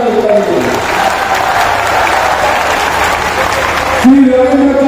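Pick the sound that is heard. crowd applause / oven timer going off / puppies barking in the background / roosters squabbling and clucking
crowd applause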